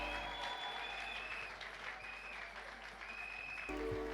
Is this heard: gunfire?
no